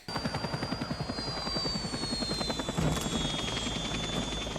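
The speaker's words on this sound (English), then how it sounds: "Those choppers are always so funny from the front." Helicopter in an action movie scene from Con Air (1997), steady rapid rotor chopping with a thin high engine whine, fairly loud and continuous with a brief louder burst midway.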